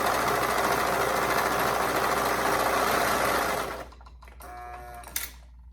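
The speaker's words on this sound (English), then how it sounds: "then we'll stitch the raw edges with a 1/2 inch seam allowance." A sewing machine runs steadily, stitching the raw edges of a folded hoodie cuff with a half-inch seam allowance, a close whirring buzz that stops partway through, leaving faint clicks.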